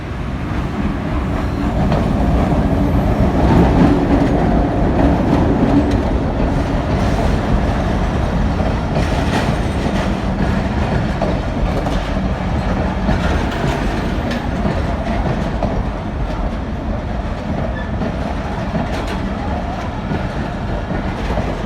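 Millat Express passenger train rolling on rails between Malakwal Junction and Mitha Lak, a steady loud rumble with rhythmic clickety-clack from the wheels, heard from on board, continuous and without talk.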